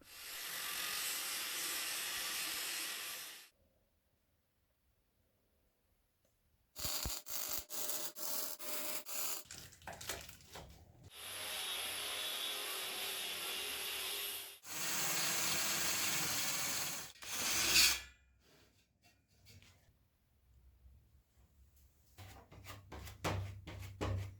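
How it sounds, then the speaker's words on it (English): Grinding disc cleaning up welds and burrs on a metal table frame: loud, broadband bursts of abrasive grinding in several separate passes, broken by short gaps of near silence and a few clanks. "I clean up the welds with a grinding disc, clean up the burrs"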